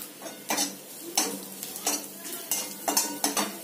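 Vegetables being stirred in a pot with turmeric and asafoetida while sautéing, a spoon scraping and clinking against the pot in repeated irregular strokes, close up, with no talk.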